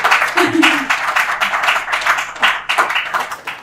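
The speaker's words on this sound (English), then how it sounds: "So a big round of applause as we welcome him up." Audience applause welcoming a speaker onto the stage at an SPE technical session, a steady patter of clapping lasting several seconds with some voices mixed in.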